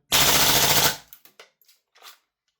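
Double Eagle Daniel Defense MK18 MWS gas blowback airsoft rifle fires a loud, close full-auto burst of rapid rattling shots lasting under a second, followed by a few scattered clicks and faint mechanical sounds.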